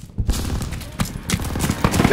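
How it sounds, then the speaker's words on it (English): Gunfire crackles in a World War II battle in Call of Duty WW2, rapid bursts of shots at mid distance, layered over one another amid other battlefield noise. "Gunfire! We must be near our guys."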